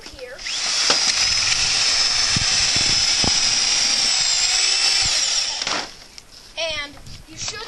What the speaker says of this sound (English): You want to take your drill and take that straight through here.